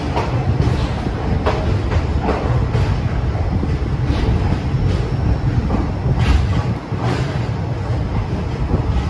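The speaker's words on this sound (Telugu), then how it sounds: "అప్రాక్సిమేట్లీ ఒక 3 minutes డిలేలో మన ట్రైన్ అయితే డిపార్ట్ అయింది" Kacheguda Guntur Express departs a station platform with a loud, continuous rumble and rhythmic rail clatter close by, the steady roar of the moving carriages.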